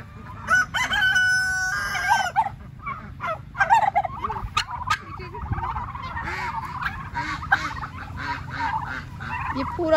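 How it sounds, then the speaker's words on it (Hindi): Chickens cluck and a rooster crows close by on a farm in Canada, mixed with turkeys gobbling and ducks calling in an excited, overlapping chorus outdoors. "और ना सिर्फ मुर्गियाँ और बतखें हैं बल्कि यहाँ पर टर्कीज भी घूम रही हैं।"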